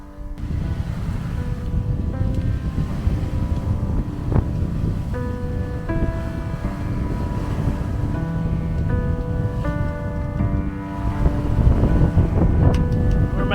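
Steady wind rushing over a sailboat at sea on a beam reach in about 23 knots apparent wind, with broad continuous whooshing and water noise, a few faint tonal whistles from rigging, and no talking.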